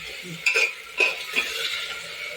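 Peas tip into a pan of vegetables frying in oil with tomatoes and chillies, giving a few brief scraping stirs and clinks over a faint sizzle, with no talk.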